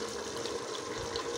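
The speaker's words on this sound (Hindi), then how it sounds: "अब हम इसे पानी लगाएंगे" Water is poured into a pot of irvi gosht, colocasia cooked with meat, giving a steady, close splashing pour that runs unbroken for its whole length with no talk.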